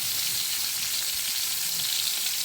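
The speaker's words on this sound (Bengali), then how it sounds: "আর মাছগুলো একটু হালকা ভাজবো, খুব বেশি ভাজবো না।" Rui fish pieces fry lightly in a wok with a continuous, even hiss of hot oil that stays moderately loud and unchanging, with no voices.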